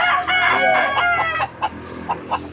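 A rooster, a pure SBR gamecock in a backyard, gives one loud close crow with a long drawn-out call, followed by a few short clucks.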